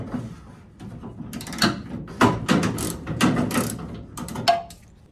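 Fasteners being removed to pull a body panel off a Jeep Cherokee during a 4x4 build give a run of close mechanical clicks, ratcheting and scraping bursts, intermittent and moderately loud with no talk.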